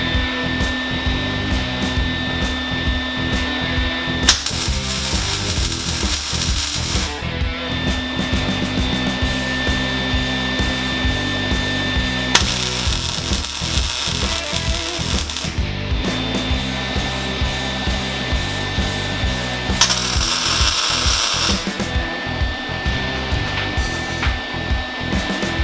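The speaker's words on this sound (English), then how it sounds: "let's just tack weld these into place for now." A motorcycle seat frame on a Yamaha Maxim XJ650 cafe racer build is tack welded. There are three loud bursts of harsh, crackling buzz, each lasting a few seconds, set against a steady tonal background.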